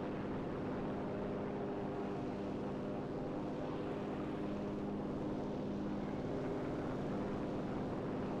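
Propeller airplane in the World War II shooter Enlisted, Normandy campaign, a steady droning engine hum that holds at an even loudness throughout, close and continuous with no voices.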